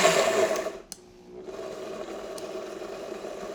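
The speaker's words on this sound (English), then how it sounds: "we're gonna make sure our blender's on low here" Blender on its low setting whirring steadily for herb oil for jumbo sea scallops, a brief dip in the motor hum before it settles into an even, close drone alone.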